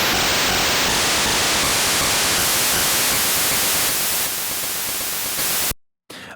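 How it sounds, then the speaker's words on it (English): The Game Boy noise channel, sequenced in LSDJ with a long setting, produces harsh static-like white noise that hisses steadily and loudly, shifting in character every second or so before cutting off briefly near the end. "the more white noise kind of sound"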